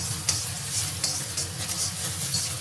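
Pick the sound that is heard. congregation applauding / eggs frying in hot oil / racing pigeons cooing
eggs frying in hot oil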